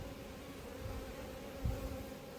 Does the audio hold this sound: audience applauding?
no